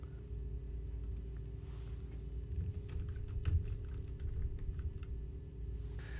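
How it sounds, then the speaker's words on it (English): Light keystrokes tap on a computer keyboard while a search title is entered, faint scattered clicks sitting over a constant low electrical hum. "you can type the title into the search box."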